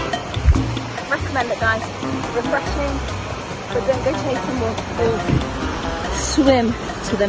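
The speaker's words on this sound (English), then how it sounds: "we've got the waterfall behind us just over there" Rushing water from Seven Sisters Waterfall in Grenada carries on as a continuous splashing wash. Several people talk loudly close by over the steady roar.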